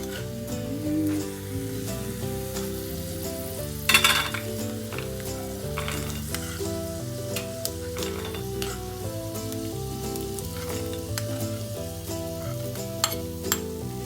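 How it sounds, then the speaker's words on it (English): Peanuts fry in oil and are stirred around a pan for a muri mixture, a soft sizzle with scattered metallic scrapes and clinks, largely beneath steady background music. "He just finished frying the peanuts"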